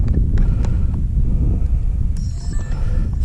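Strong wind buffeting the microphone during a night walrus watch in very windy conditions, a loud continuous low rumble with gusty fluctuations and a few faint higher tones.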